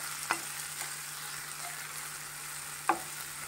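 Tomatoes sauté with onion in a pan, giving a steady, soft frying hiss throughout, broken by two brief stirring knocks near the start and end; no voices.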